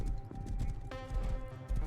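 Horse hooves clip-clop at a steady trot in the survival video game Rust, a rhythmic run of soft thuds with a brief whinny partway through, plus a low ambient game rumble.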